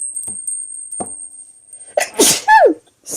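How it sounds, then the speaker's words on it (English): A single loud, close sneeze from a woman bursts out after a few quiet moments and soft sounds, followed by a brief vocal exclamation, over a faint steady high-pitched tone. "I did have to sneeze."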